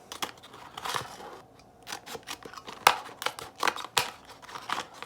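Garden snips cut a plant container from top to bottom in a run of sharp, irregular snipping and crinkling clicks, close and fairly quiet, with no talk.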